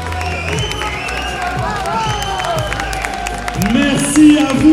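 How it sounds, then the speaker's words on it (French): A crowd applauds bodybuilders at a competition in Paris: sustained clapping and cheering mixed with a low hubbub of voices, an announcer talking over it, and a swell of louder noise near the end. "Allez, on les applaudit bien fort, s'il vous plaît."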